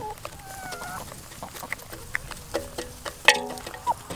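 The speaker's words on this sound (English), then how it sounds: "the chickens really like the seed" Chickens on a small pasture farm cluck and squawk in short, scattered calls, near and moderately loud, with a denser burst of clucking toward the end.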